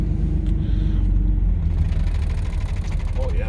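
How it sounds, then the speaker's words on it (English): A 1977 Porsche 911 Turbo with a chattering clutch gives a low, juddering rumble as it pulls away, heard close and steady for a few seconds with a brief voice near the end. "Oh yeah, that's a chattery clutch."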